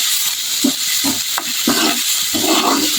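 Onions frying in a pan for egg bhurji, a loud close sizzle with repeated scraping stirs of a spatula at irregular intervals.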